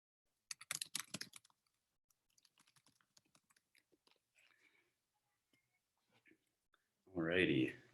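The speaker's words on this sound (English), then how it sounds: "Just finishing up typing." A quick flurry of clicking keystrokes, then scattered lighter taps in near silence, followed by a short burst of close, loud noise at the end.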